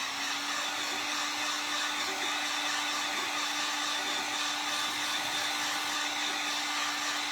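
A hair dryer blows steadily on freshly applied blackberry-blue paint, a loud, constant whir with a fixed hum running unbroken throughout, with no voices over it.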